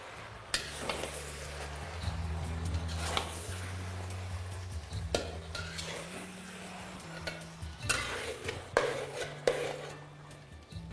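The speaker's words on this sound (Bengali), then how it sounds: "এবার ফ্লেমটাকে হাই রেখে এটাকে আপনারা ভালো করে মিশিয়ে নিন।" Mutton pieces stirred with garlic paste in a pot over a high flame, scraping and clinking spoon strokes against metal running steadily throughout, with a few louder knocks and a low background hum.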